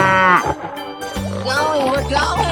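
A cartoon cow moos in a 3D animal slide game, a long, loud, wavering call that swells and dips, with a second lower bellow rising near the end.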